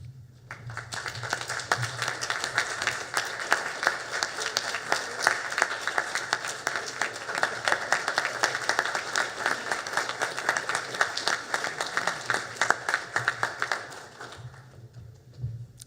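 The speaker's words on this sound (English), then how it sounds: "All ATF employees, please rise and give a round of applause to the family members." Sustained applause from ATF employees standing at a National Academy graduation ceremony, honoring graduates' family members; steady, dense clapping fills the hall for about fourteen seconds before fading out.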